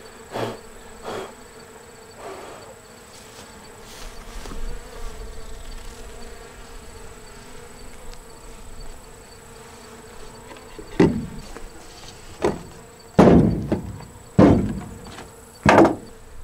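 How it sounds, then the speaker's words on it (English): Honey bees buzz faintly and steadily around a beehive. Toward the end, several loud thumps and knocks cut in close by. "We still got a few bees in here."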